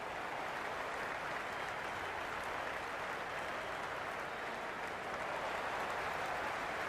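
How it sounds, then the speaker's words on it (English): Stadium crowd in the Cricket 26 video game during a match, a steady broad roar of applause and cheering that holds at an even level throughout with no speech over it. "It's evident and ever so audible that the crowd is at near bursting point at today's play."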